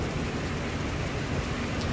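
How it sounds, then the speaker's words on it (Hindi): Heavy rain pours steadily in hot Pakistani weather, a dense, even hiss of falling water that stays loud and constant without any break, with no voices heard. "कितनी तेज़ बारिश हो रही है।"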